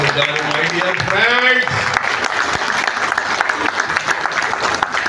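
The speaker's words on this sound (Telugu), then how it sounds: "చప్పట్లు గట్టిగా" Loud, sustained applause from a crowd, with a voice calling out briefly over the clapping at the start.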